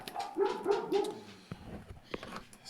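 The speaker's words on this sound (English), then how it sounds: "Stupid dogs, still barking." Dogs bark a few times in the distance, three quick rhythmic barks followed by quieter yips and thuds indoors, with no talk.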